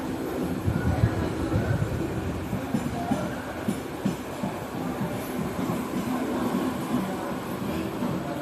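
A local MEMU passenger train from Saharanpur toward Moradabad arrives at a station, rumbling steadily nearby with low rolling wheel noise and faint clatter, amid a busy platform crowd murmuring in the background.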